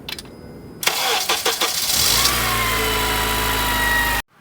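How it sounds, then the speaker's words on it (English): A 2005 Acura TSX engine cranks briefly with a few quick turns, catches and rises in a short rev, then settles into a steady, loud, close idle before the sound cuts off abruptly. "you want to run your car for about 5 or 10 minutes"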